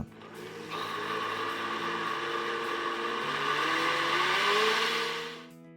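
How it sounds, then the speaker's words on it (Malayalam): A kitchen mixer grinder blends spiced buttermilk in a closed jar, a steady loud motor whir and churning that holds for several seconds after starting, then winds down at the end. "ഇനി ജാർ അടച്ച ശേഷം മിക്സിയിൽ വെച്ച് ഏകദേശം അര മിനിറ്റ് നേരം അടിച്ചെടുക്കുക"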